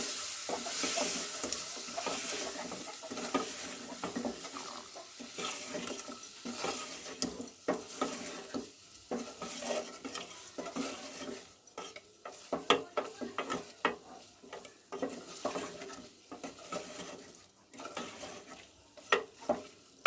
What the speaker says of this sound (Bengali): এবার এই মশলার সঙ্গে আমি চিকেনটা ভালো করে কষাবো।